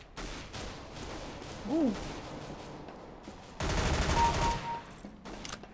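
Gunfire in the CS:GO shooter game crackles faintly in the background, rising to a denser burst of shots midway, while a player briefly exclaims.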